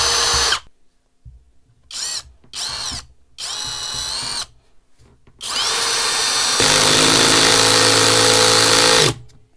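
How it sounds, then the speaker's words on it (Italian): A Parkside 12V cordless screwdriver with its clutch set to 5 drives a 2 cm screw into a piece of wood: several short whirring bursts separated by pauses, then one long, loud, sustained run near the microphone. "su 5 riusciamo ad avvitare una vite da soli 2 cm in questo pezzo di legno"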